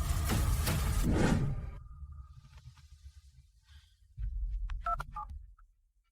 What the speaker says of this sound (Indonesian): Telepon jam segini?